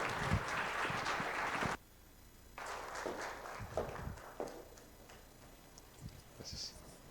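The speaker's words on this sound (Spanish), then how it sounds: "Recibamos al maestro con un fuerte aplauso." Audience applause welcoming a speaker at a seminar, a dense clapping wash that cuts off abruptly, then scattered lighter claps and shuffling noises follow.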